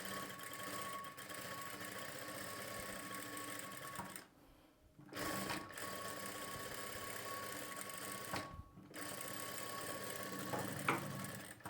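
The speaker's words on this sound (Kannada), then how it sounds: "ಈ ರೀತಿ ಕ್ಯಾನ್ವಾಸ್ ಪಕ್ಕದಲ್ಲಿ ನಾವು ಸ್ಟಿಚ್ನ ಮಾಡ್ಕೊಳ್ಬೇಕು" Sewing machine stitching a blouse back-neck patch alongside canvas, running in long continuous bursts with two brief pauses, close and steady.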